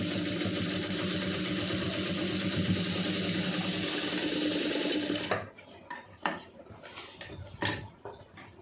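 An electric sewing machine stitches a marriage blouse in a steady, loud, close whirring run that stops abruptly partway through, followed by quiet handling knocks and rustles.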